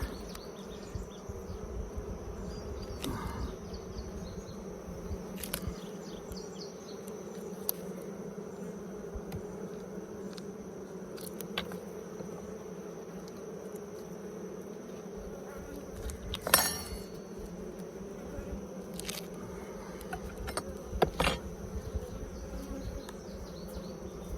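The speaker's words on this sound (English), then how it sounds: "Make sure there's no bees in between." A dense, steady buzzing of many honey bees at a Layens hive hums continuously at close range, with occasional soft clicks and knocks over the drone.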